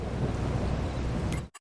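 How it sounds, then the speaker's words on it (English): Steady rain from the Farming Simulator 22 video game, a dense continuous downpour with low rumbling undertones like distant thunder, loud and constant before cutting out abruptly near the end. "It occurs to me this rain isn't going to go away on its own."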